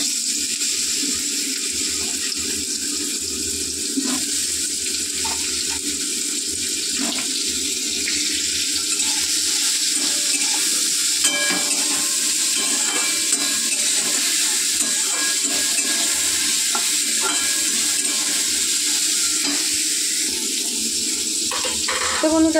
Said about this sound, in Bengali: তো এবার আমি ঝিঙেগুলোও একটু ভেজে নেব।